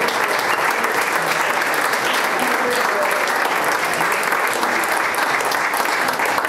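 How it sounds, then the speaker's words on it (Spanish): Sustained, dense audience applause fills the hall at the UTHGRA awards ceremony, steady and loud for the whole stretch with a faint murmur of voices mixed into the crowd noise. "Un aplauso para el chino Fernández."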